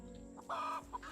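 Chicken clucking in the farming video game Garden Paws, a short burst of clucks alone over a steady electronic hum, with a fainter cluck just after.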